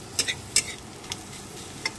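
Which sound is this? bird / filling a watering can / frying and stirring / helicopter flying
frying and stirring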